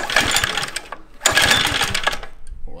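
Swardman reel mower engine being pull-started outdoors: two loud mechanical bursts of rattling, chugging engine noise, the first cutting out briefly before the second catches and runs.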